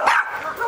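Small Chihuahua attack dogs yap and bark in a shrill, continuous burst, loud and close, the yapping running across the whole short moment without pause.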